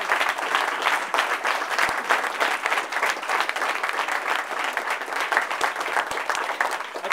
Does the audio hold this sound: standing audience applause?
yes